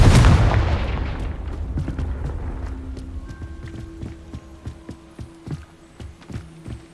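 A Confringo blasting spell bursts in Hogwarts Legacy with a loud booming impact that rumbles away, followed by a rapid run of sharp, regular crackling pops in an echoing gatehouse space.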